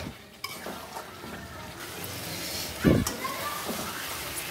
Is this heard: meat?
yes